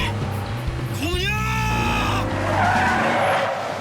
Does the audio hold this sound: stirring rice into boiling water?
no